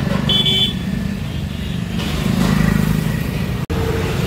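Traffic in a crowded temple parking area: cars rumble and idle close by, with a short horn toot near the start and a steady engine drone throughout.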